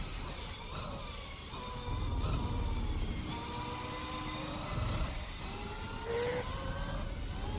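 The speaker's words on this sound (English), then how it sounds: "That four-rotor screaming." Mazda 787B race car with a four-rotor engine screaming in Gran Turismo at Tsukuba, a loud sustained high-pitched wail that climbs and drops through gear changes, continuous with no talk.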